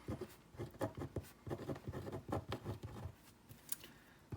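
A pen writes on paper close up, with quick rhythmic scratchy strokes and short pauses between marks, fairly quiet and with no voice over it.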